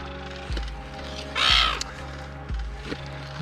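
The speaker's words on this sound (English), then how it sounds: "The seagulls are getting pretty excited," Seagulls calling excitedly on a remote north-west island while Spanish mackerel are filleted nearby, several harsh, cawing cries in a loose, irregular rhythm, fairly close, with a louder burst of noise in the middle.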